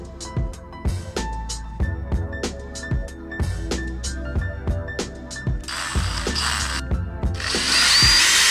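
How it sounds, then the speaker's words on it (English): A power drill runs in short repeated pulses, driving close, loud rhythmic ratcheting bursts into wood while making pilot holes for a large rug tufting frame, then settling into a longer sustained whir at the end. "now that I've drilled all of the pilot holes, starter holes"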